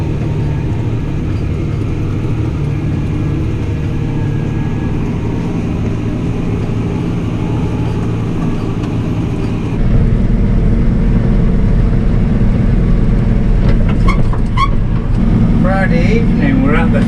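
A farm machine's engine cruises along at a steady drone with a low hum, growing slightly louder partway through, while voices are heard over it near the end.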